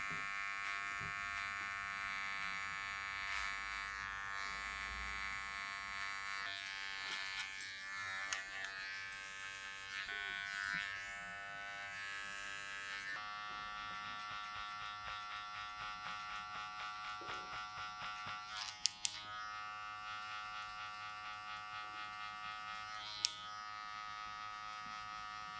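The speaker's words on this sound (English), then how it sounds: "Must feel really weird hearing clippers on the sides, mate." Electric hair clippers run steadily while cutting the sides of a head at a short guard setting, a continuous close buzz with slight shifts in pitch and texture as the blade moves through hair, and no talking.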